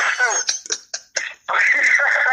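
A few short coughs break up talking, with speech on either side of the brief coughing fit.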